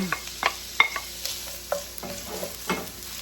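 Olive oil sizzles in a pan ready for cooking onions, a soft hiss under brief scraping taps from a stirring utensil, heard up close with no voices.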